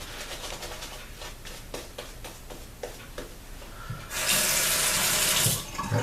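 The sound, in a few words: water running from a tap for shaving lather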